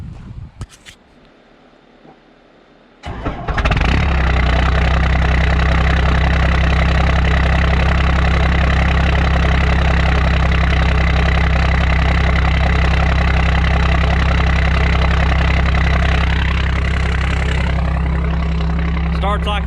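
An old Dodge truck engine cranks and catches after a quiet start, then settles into a loud, steady idle with a deep low rumble that runs without a break to the end.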